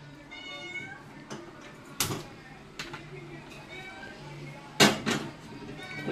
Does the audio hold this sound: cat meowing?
yes